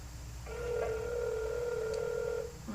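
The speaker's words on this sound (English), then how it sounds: "I think that she just lets the phone ring." A telephone rings unanswered through a phone line, one steady electronic tone lasting about two seconds over faint line hiss, quiet and alone.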